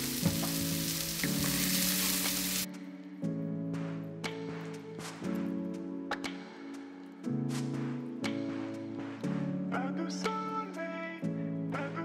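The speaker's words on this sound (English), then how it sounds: "Once the butter is melted, you're gonna start cooking your potatoes" Potatoes fry in melted butter with salt, pepper and garlic powder, making a soft, continuous sizzle. Sustained musical chords play over it throughout.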